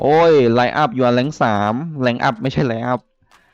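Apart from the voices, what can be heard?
None of the usual background noises is heard.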